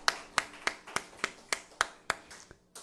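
Applause rings out in a Korean church service as about ten crisp, evenly spaced claps in a steady unison rhythm, with nothing else beneath them.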